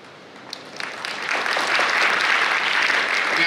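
Audience applause at an IT symposium after a talk ends, building quickly from scattered claps into a full, steady ovation that fills the room.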